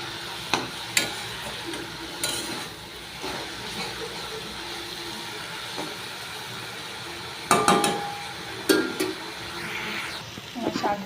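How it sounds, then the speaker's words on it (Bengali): Jute leaves fried in a pan with salt and turmeric are stirred, giving a steady low sizzle broken by scraping strokes and a few sharp clanks of the spatula against the pan. "শাকের মধ্যে পরিমাণ মতো লবণ আর সামান্য হলুদ দিয়ে দিচ্ছি। নাড়াচাড়া করে নিচ্ছি।"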